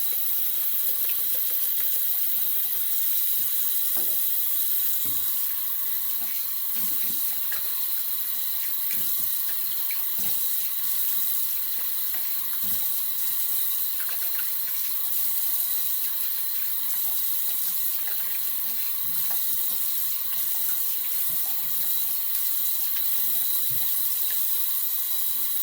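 Tap water runs steadily into a sink as a shaving brush is rinsed, a continuous close hiss with small splashes and clinks throughout.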